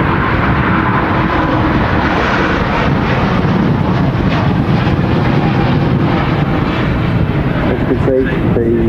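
A Virgin Atlantic airliner departs Manchester Airport for Orlando in very windy weather, giving a loud, steady broadband engine roar. Wind noise and talk run over it throughout.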